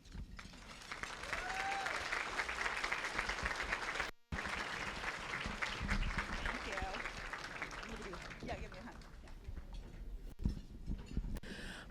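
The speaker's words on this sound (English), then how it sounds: "Can we give all of them one more round of applause?" A luncheon audience applauds after speeches, a dense, sustained wash of many hands clapping that drops out briefly, then resumes and carries on steadily.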